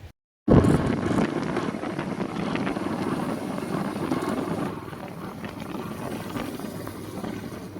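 Wind blows outdoors on a sunny, rainy day at the start of a trip, as a loud continuous buffeting rush against the microphone that eases slightly later, with no voices.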